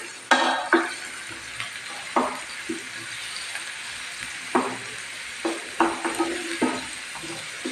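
Onions frying gently on low heat in a pan for paneer bhurji, a soft steady sizzle broken by scattered stirring scrapes and knocks of a utensil against the pan.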